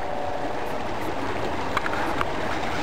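A mountain stream flows near a campsite on Mount Adams at timberline, a steady, moderately loud rushing and gurgling of water with no speech.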